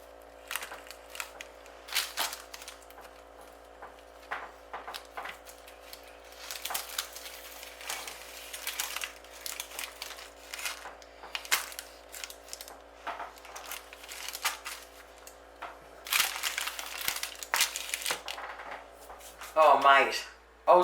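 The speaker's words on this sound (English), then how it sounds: "And cut it up any way you want." Knife cutting a tray of old-school lemon slice dusted with icing sugar: a quiet, close run of short crunching and scraping cuts in irregular bursts, heavier toward the end.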